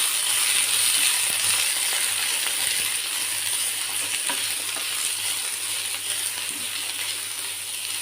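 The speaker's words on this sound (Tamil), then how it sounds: "இது நல்லா வதங்கட்டும் காயெல்லாம் ஒரு அஞ்சு நிமிஷம் நல்லா வதங்கட்டும்" Baby corn and grated potato sauté in a pan with a steady, continuous sizzle and faint crackles, heard up close with no talking.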